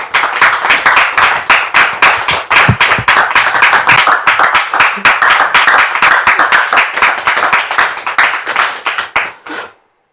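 Steady, enthusiastic clapping from an audience during a church television broadcast, dense and loud for nearly ten seconds before cutting off abruptly near the end.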